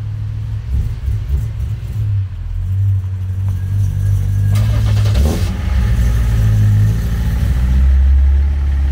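A BMW diesel car engine starts and revs, with a loud, close low rumble that swells and falls as the throttle is blipped.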